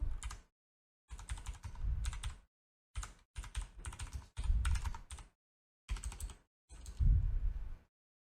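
Bursts of typing on a slightly faulty computer keyboard, near and clear, in several separate runs of rapid key clicks split by short pauses, no voices.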